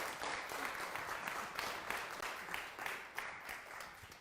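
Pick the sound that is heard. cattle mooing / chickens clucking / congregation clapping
congregation clapping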